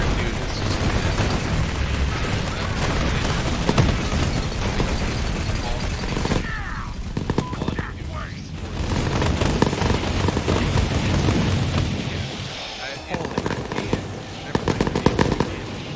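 Grenade explosions in Borderlands 3, played with a Moze build, come as a dense, steady barrage of rapid bursts and pops with rattling, gunfire-like crackle, while a voice talks intermittently over the chaos.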